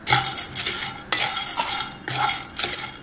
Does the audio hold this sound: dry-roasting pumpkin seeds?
yes